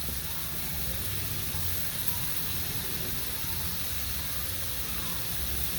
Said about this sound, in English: we want to go and get these sauteed in here as well